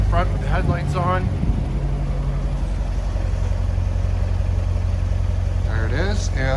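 A 2016 Corvette Z51 convertible idles with a steady low rumble that holds throughout, close by, while a person talks over it at the start and again near the end.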